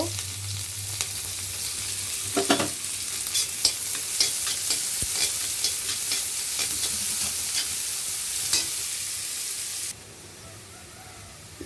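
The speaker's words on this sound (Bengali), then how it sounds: "ডাল বাগার দেওয়ার জন্য পেঁয়াজ আর রসুনটা আমি লাল লাল করে নিচ্ছি" Onion and garlic fry in oil for tempering dal, a dense steady sizzle with repeated stirring scrapes and clicks, loud and close. Near the end the sizzle drops abruptly to a softer hiss.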